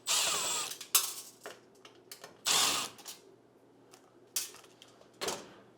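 A screwdriver backs out two Phillips screws from a kitchen stove's control-knob switch during an appliance repair, with a series of short, close metallic clicks and ratchety squeaks in separate bursts and pauses, and no voices.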